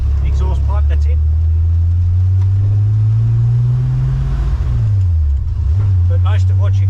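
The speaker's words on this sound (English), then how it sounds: "it's the engine noise through the firewall and the gearbox" A car's engine and gearbox drone heavily through the firewall as heard from inside the cabin, a loud low steady hum that rises slightly and then dips, while someone talks over it.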